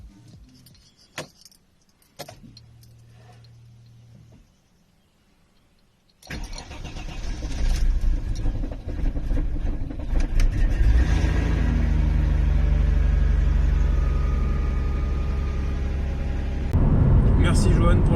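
A Chrysler Crossfire running a flex-fuel E85 ethanol remap, parked outdoors in snow, with keys jangling, then the engine cranking and struggling before catching into a loud, steady idle that continues to the end; no talk.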